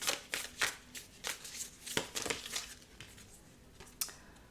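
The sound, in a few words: shuffling a deck of tarot cards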